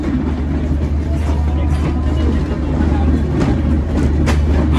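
The Kapotaksha Express rolls into Jessore railway junction on a cold winter evening, giving a loud, steady rumble of carriages and wheels while someone talks over it.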